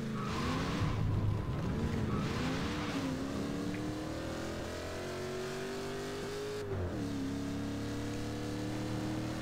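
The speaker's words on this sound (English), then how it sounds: "Oh god, I forgot this thing drifts." Car engine in a video game revving and sliding through a drift, a steady loud engine tone rising and dipping in pitch with tire screech over about nine seconds.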